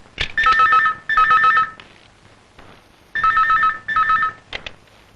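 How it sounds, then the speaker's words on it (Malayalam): A telephone bell rings in paired bursts, two trills, a pause, then two more, clear and moderately loud as from an adjoining room, with a short click near the end and no talk over it. "നീ പോയി അപ്പുറത്തെ മുറിയിലെ ഫോൺ എടുത്തേ"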